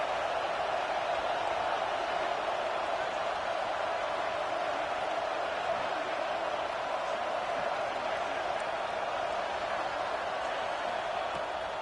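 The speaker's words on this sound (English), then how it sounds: "The Tide crowd rolling noise down onto Saban Field on 3rd down." Steady roar of a college football stadium crowd at Alabama's home field during a third-down play against Florida State, a dense continuous wash of massed voices with no breaks, loud and enveloping throughout.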